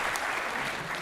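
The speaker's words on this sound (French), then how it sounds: "Ah, faut applaudir." Brief, dense applause rises from a crowd at a gaming convention talk, a continuous wash of clapping lasting about a second.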